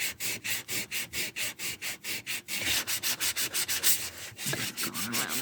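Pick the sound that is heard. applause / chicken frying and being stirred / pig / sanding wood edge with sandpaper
sanding wood edge with sandpaper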